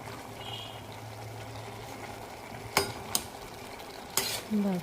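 A spoon stirs a broad bean and soft-cooked tomato curry in a pan, the low sizzle running underneath while a few sharp metal scrapes and clinks ring out near the end.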